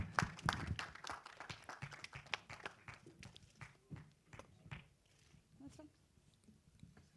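Audience clapping at a Bollywood film trailer launch, a burst of applause that starts strong and thins out to scattered claps over several seconds.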